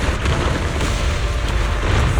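Explosions in the video game Zenless Zone Zero, a dense, continuous rumble of booms and bursts filling the whole clip at loud volume, with no voices over it.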